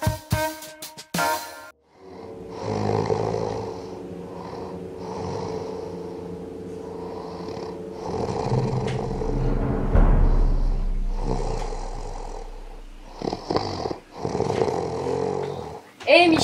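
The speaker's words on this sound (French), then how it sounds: "T'en as marre des ronflements ?" Deep, rasping snores rumble in long drawn-out waves, loud and close, repeating with brief pauses between breaths.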